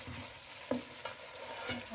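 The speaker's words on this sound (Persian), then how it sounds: "حدود یه 10 دقیقه یه رو من اینو تفتش میدم" Tripe being sautéed in a pan, a soft continuous sizzle with a few brief clicks of stirring, close and fairly quiet, no talking.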